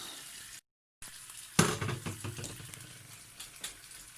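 Food sizzles gently in a pan over low heat, a soft frying crackle that begins abruptly after a short silence and then settles into a steady, quiet hiss with small pops.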